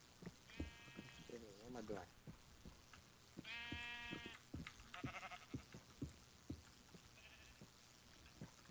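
A Minecraft sheep gives repeated nasal bleats, a few separate calls spread across the stretch, while a player talks over them and other game noises tap and thump in the background.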